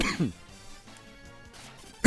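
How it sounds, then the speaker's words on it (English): Two short, harsh coughs, one at the start and another at the end, with quiet muffled background between them. "sometimes you just gotta cough it out"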